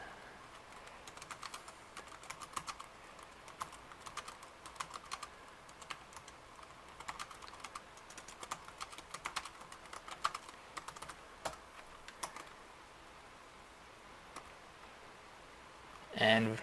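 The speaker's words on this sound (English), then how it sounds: "Let's do some actual typing." Rapid, steady keystrokes on a computer keyboard, soft and fairly close, clicking continuously for about sixteen seconds before a brief louder bump at the end.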